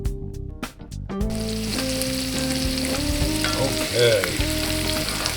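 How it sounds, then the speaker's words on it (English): Onions sizzle steadily in butter in a hot pan, a continuous crackling fry close up, with a brief spoken word at the start. "these are sizzling up pretty good"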